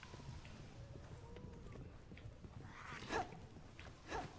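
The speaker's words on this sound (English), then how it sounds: "Spooky dog." A menacing dog in the video game Resident Evil 6 is heard faintly: low growls and a couple of short barks under quiet ambience and soft footsteps, with a player's voice talking.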